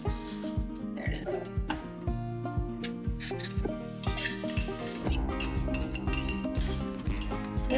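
A big spoon stirring zucchini bread batter in a mixing bowl, giving repeated bright clinks and knocks against the bowl at an uneven pace, with steady tonal background sounds underneath.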